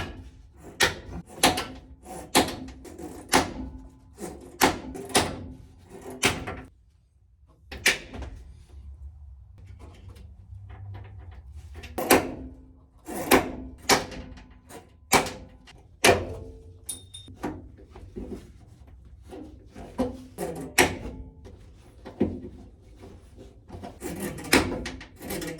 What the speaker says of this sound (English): let's see how well this thing knocks off spot welded panels